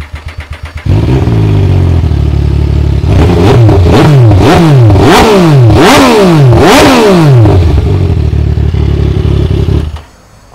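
2013 MV Agusta Brutale 800 with a Dynojet setup, engine idling with a rough clatter, then revved hard several times in quick rising and falling sweeps, loud and close, before settling back to idle and cutting off.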